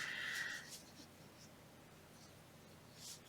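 Colored pencils scratching lightly across paper, close but faint, with a denser stroke at the start and a few scattered soft strokes after.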